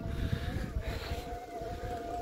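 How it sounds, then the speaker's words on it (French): An electric motor on a Bodywel T16 compact mini bike strains uphill, giving a thin, steady whine over faint rumble and wind noise, heard from close by. "On entend bien que ça force hein, le moteur."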